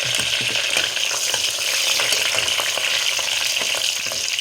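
Whole garam masala, biryani leaf and mint leaves frying in hot oil for mushroom biryani, a dense continuous sizzle with faint stirring ticks, close and loud with no voices.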